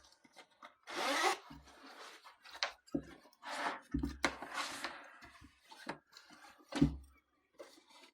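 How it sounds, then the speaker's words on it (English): A zipper being pulled up on an electric heated vest with a USB power bank, several quick rasping zips and rubbing strokes of fabric, close and quiet, with no talking. "So basically, you just zip it up."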